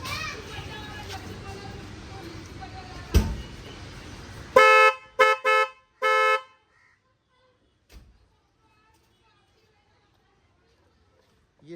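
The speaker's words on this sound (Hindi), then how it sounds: "अब बजाते इसका हॉर्न।" A Roots dual-tone horn newly installed on a car sounds in a test, with several loud bursts of different lengths after children's chatter and outdoor noise, then silence.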